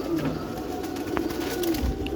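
Flying pigeons coo during a feeding of mixed feed, with soft low throaty calls repeating among a flock, mixed with light rustling and a brief thump, close by.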